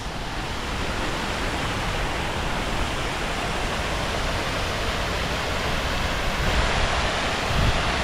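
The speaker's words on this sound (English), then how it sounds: "calming sounds of the fountains." Fountains at the St. Johns River Riverwalk in Jacksonville, Florida, a steady broadband rush of splashing water that fills the whole span evenly and fairly loud, close by, with no speech.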